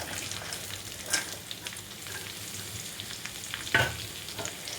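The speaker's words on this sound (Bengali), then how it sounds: "আলু, পেঁয়াজ আর কাঁচা লঙ্কাগুলো ছেড়ে দেবো।" Potatoes, carrots, onions and green chillies fry in hot oil with a steady close sizzle. A couple of louder stirring knocks break through it.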